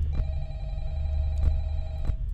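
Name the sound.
telephone ringing in Five Nights at Freddy's video game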